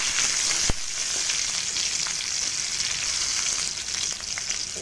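Two pieces of potato fry in a pan for chicken curry, giving a steady close hiss of oil sizzling with one brief clatter near the start, continuous and even throughout with no talking.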